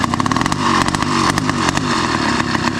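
Motorcycle fitted with a new carburetor idles steadily in the Himalayan cold of Nepal, a loud, close, rapid chugging putter with small irregular pops and no talk.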